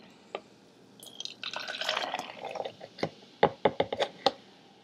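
Root beer poured from a half-cup measure into a glass, a short gurgling splash and fizzing pour followed by a quick series of distinct drips and clinks, close and fairly quiet.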